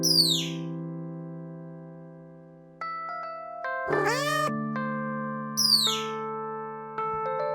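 A cartoon cat meows in a comic Tom and Jerry style animation: sweeping, whistly meow calls at the start and again later, over sustained musical tones and a brief clattering flourish.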